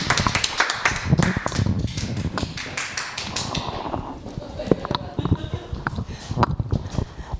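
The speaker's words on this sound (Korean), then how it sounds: "큰 박수 부탁드립니다." Audience at a lecture clapping to welcome a speaker, a brisk round of hand claps that thins out into scattered taps and background murmuring.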